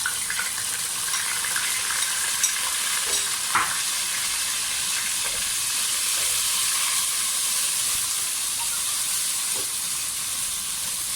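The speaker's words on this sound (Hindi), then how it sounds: "अब इसको लहसुन अदरक को थोड़ा भूनेंगे।" Ginger garlic paste fries in hot oil with light-browned onions in a pan for vegetable pulao, giving a steady, close sizzle and hiss throughout with a few faint clinks of stirring and no talk.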